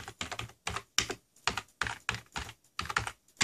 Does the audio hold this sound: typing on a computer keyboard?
yes